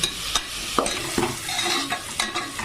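Medium onions frying in oil until brown for chicken biryani, a continuous close sizzle with several sharp spatula clinks and scrapes on the pan as they are stirred, with no voices.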